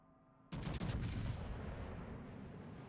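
Warship naval guns fire in a video game: a sudden loud volley of several quick booming shots after a brief quiet, then a long rumbling decay, with no speech.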